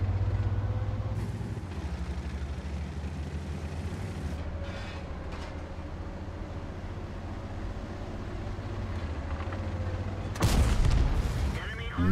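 Tank cannon HE rounds fire in World of Tanks on the Himmelsdorf map, a heavy boom cutting through the steady rumble of engine and tracks, with a louder blast near the end, while someone commentates.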